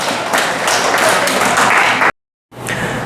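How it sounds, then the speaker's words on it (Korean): An audience at a nursing student networking day bursts into loud, dense applause for about two seconds, cutting off abruptly into silence before clapping resumes briefly. "박수 부탁드리겠습니다."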